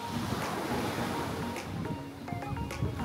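Sea waves washing onto a shore at sunset, a steady broadband surf wash with light wind across the microphone, continuous and fairly close, with no talking.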